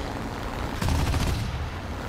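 Aircraft guns rattle off a short burst in a flight combat game dogfight between a Yak-7B and a P-39, a dense crackle of rapid shots lasting under a second over steady engine drone.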